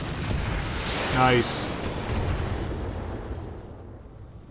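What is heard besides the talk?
tank cannon fire in a video game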